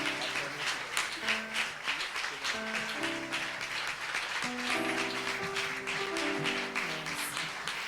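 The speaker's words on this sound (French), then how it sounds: "nous applaudissons Seigneur plus fort" A church congregation claps and applauds at a family conference, with steady clapping running throughout alongside music and sung or voiced tones underneath.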